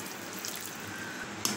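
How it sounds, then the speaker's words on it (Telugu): Water is poured into a pan of paneer curry, a brief, steady close splash and trickle ending in a sharper clink. "సో ఇప్పుడు దీంట్లోకి మనం వాటర్ వేసుకుందాం."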